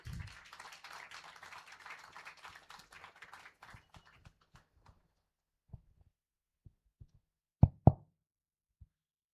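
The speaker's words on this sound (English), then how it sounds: "Please give a round of applause for him." Audience applause at an inauguration ceremony for a skill academy, a dense wash of clapping for about four seconds that thins into scattered single claps, followed by a few louder isolated knocks.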